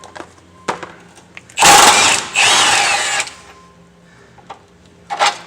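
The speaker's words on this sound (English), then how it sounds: "we're going to go ahead and take off this bolt that's right here" A power tool, likely an impact gun, loosens a 19 mm bolt on the lower control arm of an Acura RSX Type S, two loud close bursts of whirring with brief ratcheting, framed by metallic clicks and a final short burst.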